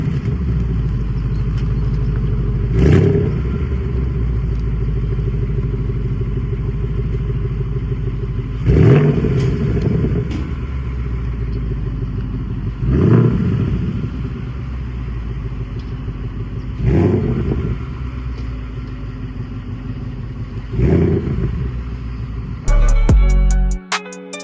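Ford Mustang 55 Edition V8 idling with a steady low rumble, punctuated by five sharp throttle blips that swell and fall back, followed by a brief clatter at the end; no voices.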